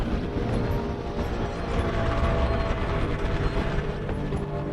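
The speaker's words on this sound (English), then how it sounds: "There's a crane here." Crane machinery in the mining game Deep Rock Galactic grinds along in a steady mechanical clatter of ratcheting and gear noise, continuous and fairly loud with no talk.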